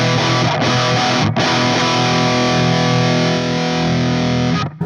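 Electric guitar played through a Mesa amp and miked with a 57, giving a loud, saturated distorted tone that holds steady for several seconds, with two brief dropouts early and a cutoff near the end.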